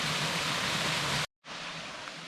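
Waterfall at Boord State Nature Preserve in Cutler, Ohio, pouring as a steady broadband roar close by, briefly cut to silence for a moment before the rushing water resumes.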